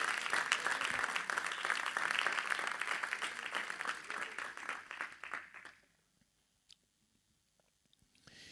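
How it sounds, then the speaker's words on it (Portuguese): Church congregation clapping joyfully at a communion service, a dense, fairly close round of claps that fades out around six seconds, leaving near silence with a few faint stray sounds. "dar uma salva de palmas bem alegre ao nome de Jesus"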